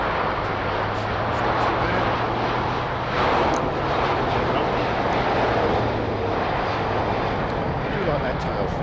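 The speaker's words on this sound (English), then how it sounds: "It's a Boeing 777." An American Airlines Boeing 777 departs from Heathrow with a loud, continuous jet roar that swells briefly partway through, while a person talks over it.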